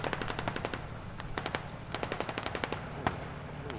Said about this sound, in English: that sounds like an MG position in front of us